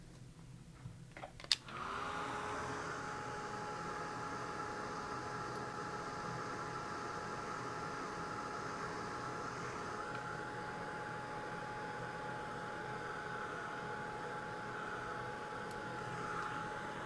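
A heat tool drying ink on a paper craft project runs as a steady, loud whirring blow with a faint whine, starting after a couple of soft clicks and continuing unbroken and close for the rest.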